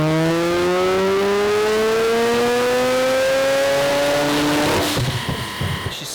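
A Mazda 13B rotary engine on a dyno power run winds up in one long, loud, rising pull lasting several seconds, then the revs break off into a rough, clattering drop-off.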